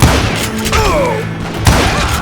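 Gunfire bursts and heavy thuds from the Western shooter game Call of Juarez: Gunslinger, loud and close, with a sharp impact at the start and another near the end, set among game music and sound effects.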